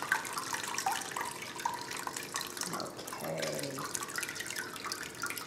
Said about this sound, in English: I'm just going to leave that on there to continue draining